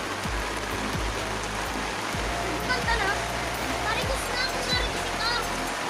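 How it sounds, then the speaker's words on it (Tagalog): Heavy rain pours steadily in a dense hiss, drumming on a tarp at a cemetery in Oas, with children's voices faintly mixed in beneath the downpour. "bigla na lang pong bumagsak ang malakas na ulan"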